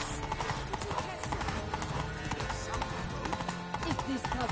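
Horse hooves clatter in a quick, steady clip-clop through Blood and Wine, the Witcher 3 video game expansion, mixed with busy game sounds and voices throughout.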